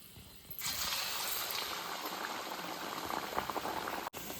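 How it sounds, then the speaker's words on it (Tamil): Urad dal (black gram) vadas dropped into hot oil to deep fry, a dense, steady bubbling sizzle that starts abruptly and stays loud and close, with no talking. "இப்போ நம்ம எண்ணெயில் போட்டு பொரிச்சிக்கலாம்."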